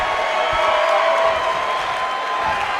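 Arena crowd in the WWE 2K19 wrestling game, cheering and whooping in a steady, dense roar that fills the space throughout, with no lulls.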